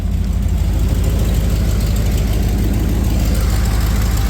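A 1994 Ford F-150 idles with a steady, loud low rumble and a faint rhythmic knock, close by and continuous with no talking.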